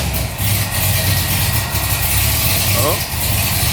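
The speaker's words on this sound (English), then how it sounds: "we got to start the car up just to see if everything works fine" A Corvette engine fitted with a new supercharger and fuel injectors runs with a steady, low rumble throughout, while voices talk over it.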